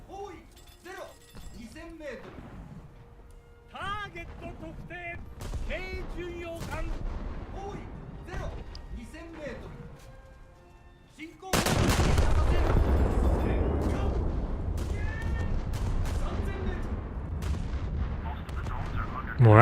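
A battleship in a naval game fires a full salvo at an island, a sudden heavy booming blast that swells into a long rumbling roar after a stretch of scattered quieter sounds, with someone talking over the top.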